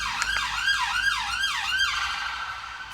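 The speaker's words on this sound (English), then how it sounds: "There's a bit of a siren going on." An emergency vehicle siren outside wails in quick rising-and-falling cycles, about four sweeps in three seconds before trailing off, clear and moderately loud with no talking.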